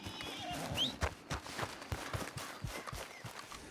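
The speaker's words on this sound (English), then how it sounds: "Come over here, horse." A horse in the video game Red Dead Redemption 2 trots closer with rhythmic hoof clip-clops and a brief whinny, fairly close and steady throughout.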